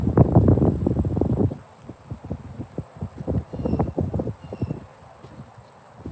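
Strong gusts of outdoor wind buffet the microphone in loud, irregular bursts with a dull rumbling roar, interspersed with rustling.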